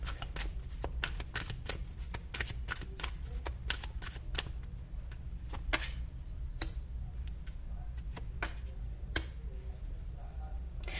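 Tarot cards drawn and shuffled from a deck, a quick stream of crisp papery flicks and snaps, some clustered, some spaced apart, close and quiet with no talk.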